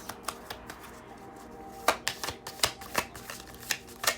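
Tarot cards shuffled by hand in a quiet room, a soft riffling patter at first that turns into a run of sharper, crisp slaps and flicks repeating in an uneven rhythm, close up with no talking.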